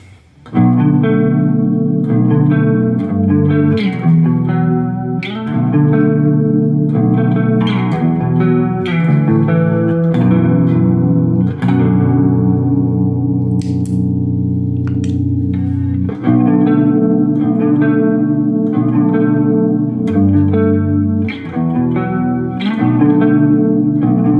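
Electric guitar through analog chorus pedals plays continuous chords and riffs with a shimmering chorus, loud and close, with slight in-amp reverb and no voices.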